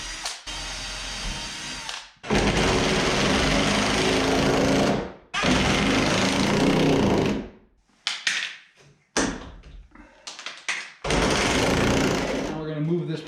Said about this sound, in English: Now it's time to drill it and lag it into this post here.